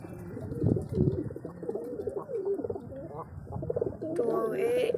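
A pigeon coos in soft, repeated throaty phrases while a person talks steadily over it at close range.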